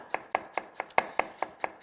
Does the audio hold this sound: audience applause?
no